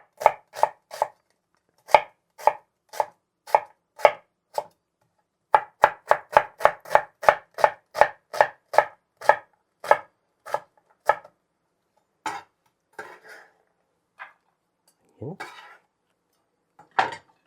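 A knife chops green onions and yellow onion on a board in crisp, regular strikes that speed into a quick run midway, then thin out to sparser, softer cuts.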